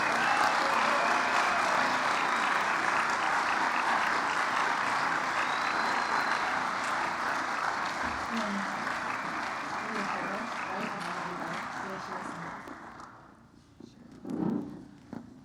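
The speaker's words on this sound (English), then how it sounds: "Can we get a large round of applause for all of our new NHS inductees?" An audience at a National Honor Society induction ceremony gives a long, dense round of applause that gradually thins and fades, ending with scattered shuffling and brief voices.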